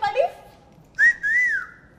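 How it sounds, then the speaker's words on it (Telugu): A man whistles a short rising-and-falling tone at an actor during a chat, with a brief sharp blast followed by a longer sustained note, close and clear after a moment of faint voice. "నన్ను చూసి విజిల్ కొట్టినట్టు"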